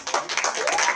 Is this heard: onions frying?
no